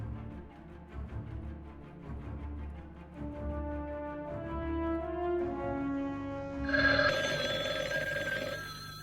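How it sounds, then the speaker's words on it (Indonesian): A telephone rings repeatedly in an Indonesian radio drama, its bright tonal rings rising and layering over about nine seconds and growing louder toward the end, with no talk over it. "Telepon kerang-kering terus."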